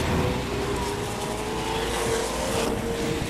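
A Lamborghini with a naturally aspirated 12-cylinder, 700-horsepower engine drives on the Homestead circuit in Miami, its engine holding a loud, sustained, even drone close by.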